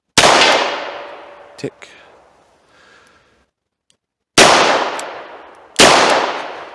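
A revolver fired outdoors at a metal tank about 35 yards away gives three loud, sharp shots, each trailing off in a long outdoor echo, with a faint metallic clang after the first.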